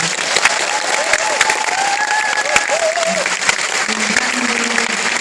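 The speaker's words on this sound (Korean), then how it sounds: "큰 박수 한번 부탁드립니다" An audience at a film festival screening applauds the director and actors after a Q&A, steady close clapping throughout with faint voices and tonal sounds beneath.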